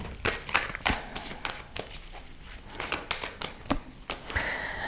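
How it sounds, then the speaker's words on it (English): Tarot cards being shuffled and drawn: a run of quick riffling flutters and soft card slaps in an irregular rhythm, close and moderately loud, with no talking. "I'm gonna draw one more card for this other person and for you"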